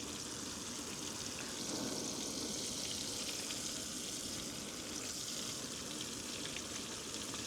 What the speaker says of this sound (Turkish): Balıklar tavada.